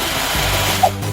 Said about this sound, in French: J'ai une perceuse.